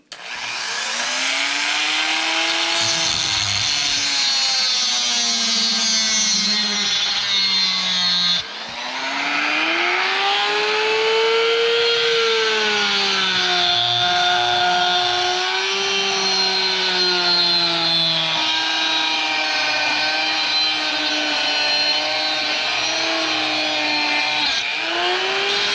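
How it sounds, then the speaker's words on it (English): A power tool cuts through threaded rod clamped in vice grips, giving a loud, continuous high whine that rises and falls in pitch with the load, close up, with one brief break near the middle. "Now I'll hold of it with my little vice grips and finish the cut."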